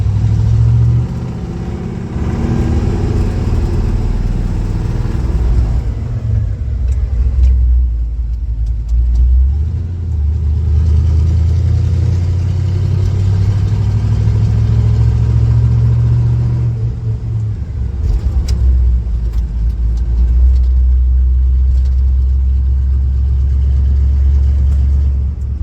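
A manual-transmission car pulls away after the clutch is let out, its engine rumbling loud and close, swelling and dropping in long revving waves with no voices.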